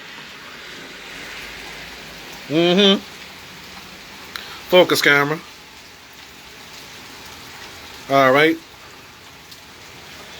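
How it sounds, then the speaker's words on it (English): Steady rain patters throughout, with someone speaking briefly three times over it. "It's raining. It's pouring."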